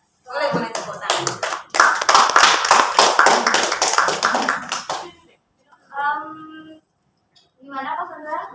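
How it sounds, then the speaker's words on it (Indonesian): An audience at a school OSIS interview claps for several seconds. The sound starts with a few scattered claps and swells into full, close applause, then stops, and voices speak afterward. "Boleh tepuk tangan."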